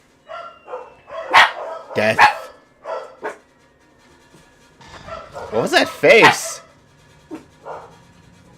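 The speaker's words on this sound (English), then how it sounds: "Dogs, stop." Dogs bark in short, loud bursts near the microphone, mixed in with a person talking over them.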